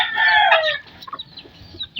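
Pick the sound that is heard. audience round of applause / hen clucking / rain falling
hen clucking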